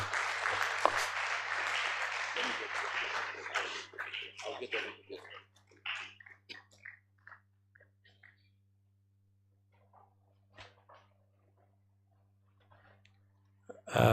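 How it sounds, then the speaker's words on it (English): Applause from an audience at a university alumni lecture event, loud and dense for the first few seconds, then thinning into scattered claps and fading out, with a brief burst near the end. "Let's give them a round of applause, please"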